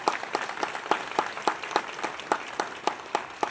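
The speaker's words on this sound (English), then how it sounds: "I feel you should give one clap to your MLA for this facility." An audience of villagers in Akradi claps at the inauguration of a healthcare unit. The claps are moderately soft and come in a fairly regular, rhythmic pattern, with no voices over them.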